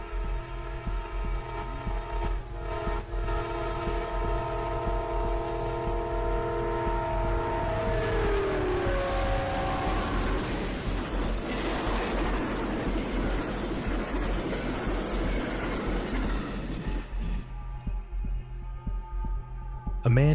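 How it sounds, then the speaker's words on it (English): A fast train at about 80 miles per hour nears a railroad crossing, a loud sustained rumble and throb with steady tonal hum that swells and sweeps in pitch mid-clip before cutting off near the end. "a fast-moving train, traveling at 80 miles per hour, approached a railroad crossing"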